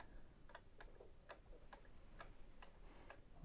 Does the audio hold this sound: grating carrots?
no